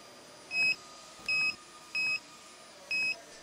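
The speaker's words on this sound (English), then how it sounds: "Both LED and buzzer signals will give evidence of the target achieved." Four short electronic beeps from a digital torque wrench buzzer, evenly spaced, each bright and clear against a faint steady background hum.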